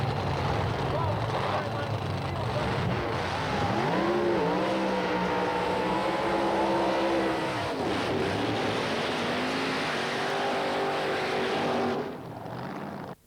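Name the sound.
1967 Camaro drag car with 427 Chevrolet engine racing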